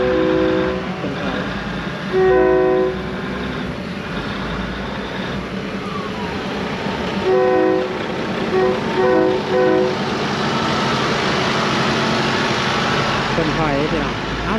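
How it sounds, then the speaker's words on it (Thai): A train reverses at a Thai–Lao border crossing, rail cars rumbling steadily with horn-like tonal blasts near the start and middle, while people talk over the continuous clatter. "รถไฟกับถอยหลังได้พี่น้อง"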